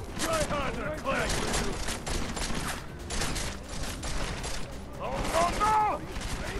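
Gunfire in the video game Deus Ex: Mankind Divided, rapid bursts of shots and mechanical clatter mixed with game sounds, loud and dense throughout, with voices talking over it.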